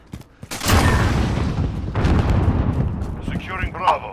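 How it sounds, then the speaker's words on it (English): A grenade detonates in Call of Duty: Modern Warfare on a rainy Piccadilly map, a loud close blast with a long rumbling tail, followed by a second burst of gunfire and debris; a player talks over it. "Grenade out!"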